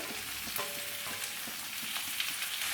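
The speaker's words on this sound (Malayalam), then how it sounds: "ഒരു 5 മിനിറ്റ് എണ്ണയിലിട്ട് നമുക്കിതൊന്ന് ചെറുതായിട്ടൊന്ന് വഴറ്റിയെടുക്കാം കേട്ടോ" Mixed vegetables sauté in hot oil for sambar with a dense, even sizzle, marked by soft scraping stirs and faint utensil taps, and no voices.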